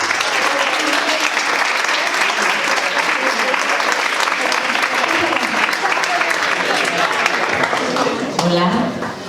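A school audience gives a novelist a long, loud round of applause, with dense clapping that keeps going strongly before tapering off at the end as a voice begins to speak.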